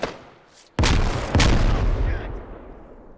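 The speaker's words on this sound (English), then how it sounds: "Grenade." A grenade explodes in a milsim game: a sudden heavy boom, then a second blast moments later. Each one rumbles loud and close before slowly fading away.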